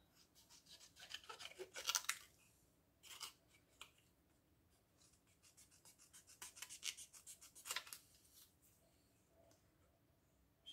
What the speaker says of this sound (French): Je vais venir découper au bord.